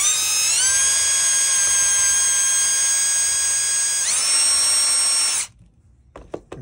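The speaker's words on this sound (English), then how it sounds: "Now we're going to put the retaining screws in. These are stainless steel." A power drill drives stainless steel retaining screws into an ice pike, a loud high-pitched whine that steps up in pitch partway through, then stops abruptly, leaving a few small clicks.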